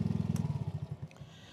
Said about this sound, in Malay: nanti saya matikan enjin motor ni, kau bising